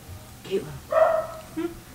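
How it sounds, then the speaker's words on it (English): A dog barks a few times somewhere in the room, short yips rising over a person talking nearby during a casual live stream. "Somebody's got a barking dog."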